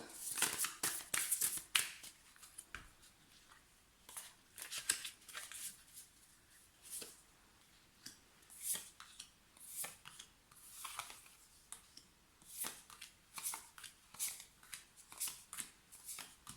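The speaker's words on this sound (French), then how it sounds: "Donc on va tirer des petites cartes supplémentaires." Tarot-style cards shuffled and drawn for a Taurus horoscope reading: soft, close rustles and quick papery flicks come in irregular bursts throughout, with no talking.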